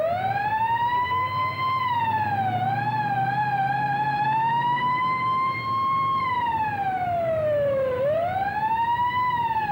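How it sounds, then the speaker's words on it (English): A police siren wails continuously, rising and falling in long sweeps, loud and close, with an engine rumble underneath. "Will you turn on the siren?"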